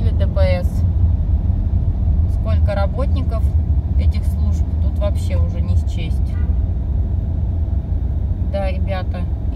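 Steady low rumble of road traffic on Nevsky Prospekt in Saint Petersburg, with traffic police cars and buses moving along, a continuous engine drone with brief voices talking over it.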